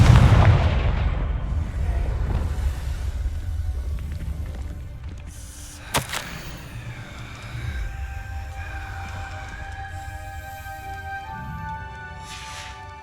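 In the video game Hogwarts Legacy, a Confringo fire spell sets off a deep, rumbling explosion that fades slowly. A sharp crack follows midway, then tonal game sounds and chimes ring out as the blast dies away.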